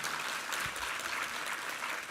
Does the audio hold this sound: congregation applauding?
yes